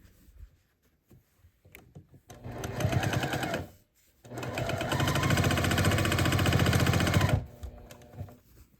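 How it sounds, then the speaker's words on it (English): A home sewing machine runs along the long seams of a scrappy sampler quilt block in two bursts, one short and one longer, each a loud, fast, steady mechanical whirr close by, with quiet handling in between. "So I'm going to match these up and just sew the lengths of these long seams."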